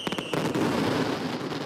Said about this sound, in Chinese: 烟火齐发